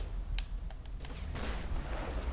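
Bursts of gunfire in the Tomb Raider video game, several quick sharp shots scattered across the moment, fairly faint and set over a rumbling low game background.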